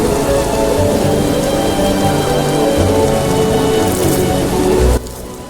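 Steady heavy rain falls in The Witcher (2007) game, a loud dense patter that runs continuously and then suddenly drops away near the end.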